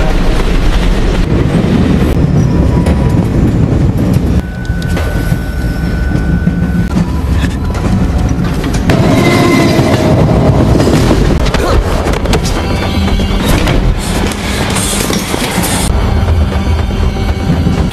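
Loud, continuous roar and rattle of a passenger train carriage running into a tunnel, with rushing wind and rumbling wheels throughout and no talk.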